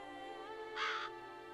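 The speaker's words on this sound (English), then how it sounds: "Oh, there's crows." A single crow caw in Witcher 3: Blood and Wine, one short harsh call rising out of a steady ambient game background.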